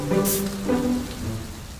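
A handheld spray bottle filled with water mists a small enclosure to imitate a tropical rainstorm: one short, bright hiss of spray near the start, then a softer patter fading out with no talk.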